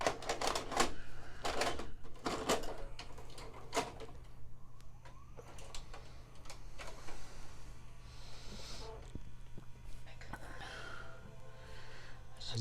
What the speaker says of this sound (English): Let's go ahead and put a regular VHS and see.